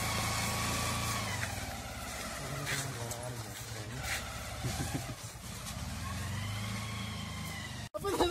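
Car engine straining in snow, a steady low drone that rises and falls with revs throughout, while someone talks over it close by.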